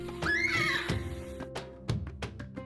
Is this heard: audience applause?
no